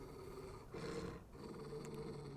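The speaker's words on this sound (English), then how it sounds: "Roar." A creature in the video game Final Fantasy XVI lets out a brief, low roar that swells for about half a second over quiet game ambience, no talk present.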